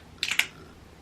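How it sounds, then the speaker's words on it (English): Two quick, close hisses of a perfume atomizer spraying in rapid succession, then quiet. "I'm going to go ahead and spray it on the other side."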